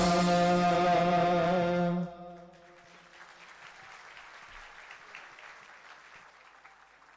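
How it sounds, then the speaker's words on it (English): Loud applause after a performance at a civil reception honouring the armed forces, a full crowd clapping strongly at first, then fading after about two seconds to quieter scattered clapping and room noise. "That surely was one performance which was deserving of a huge round of applause."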